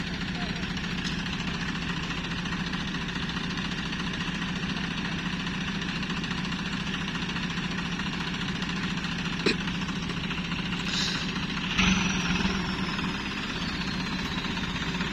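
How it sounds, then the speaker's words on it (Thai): A tractor engine idles steadily in a rice paddy with a low, chugging drone throughout, with a couple of brief clanks over it. "เอารถไถของยายนะครับของ พี่หมูนี่แหละมาลง นาตัวเองพอมาลงแล้วมันก็ติดอย่างนี้แหละ"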